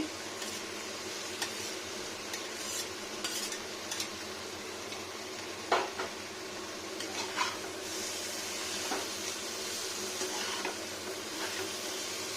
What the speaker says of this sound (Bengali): এবার দিয়ে নিচ্ছি ব্রোকলিগুলো, গাজর